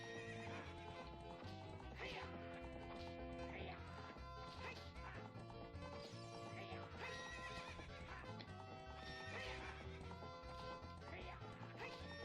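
Video game horse from Zelda: Ocarina of Time neighing and galloping with steady clip-clop hoofbeats, loud and continuous over a dense orchestral music score.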